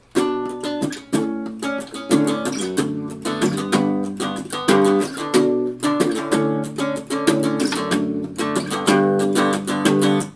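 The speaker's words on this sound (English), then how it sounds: "Chord progression with the strumming sounds like this." Steady rhythmic strumming on an acoustic guitar through the chord progression of a song, with driving down-up strokes and brief pauses between chord changes.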